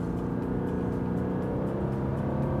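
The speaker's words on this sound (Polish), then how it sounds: "A teraz czas na test elastyczności, czyli pomiar przyspieszenia w zakresie 60-90 km na godzinę. Gaz do dechy." A Lancia Thema / Chrysler 300 accelerates at full throttle from 60 to 90 km/h, its engine holding a loud, steady, rising drone heard from inside the car with no talk.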